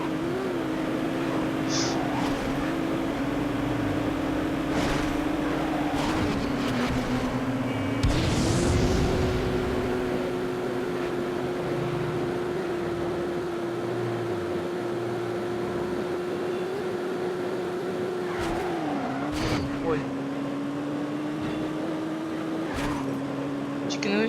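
A motorcycle engine in the racing video game Midnight Club 2 drones steadily at high revs, its pitch dipping and rising through gear shifts and turns, with brief bursts of impact noise along the way.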